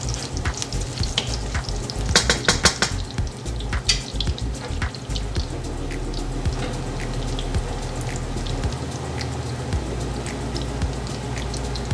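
Squid frying with garlic in a pan over high heat for yakisoba, starting with crackling spatters and stirring clatter, then settling into a loud steady sizzle, no talking.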